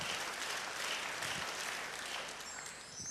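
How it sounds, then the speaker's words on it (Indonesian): Congregation applauding during a church sermon, a steady dense wash of clapping throughout that fades slightly near the end, moderately distant, with no talk over it. "Beri tepuk tangan bagi dia."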